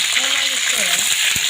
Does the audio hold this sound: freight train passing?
no